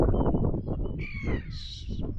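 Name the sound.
gull calling at the beach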